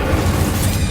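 A short, booming burst from an Incendio fire spell cast in Hogwarts Legacy, loud and muffled with a steady low rumble.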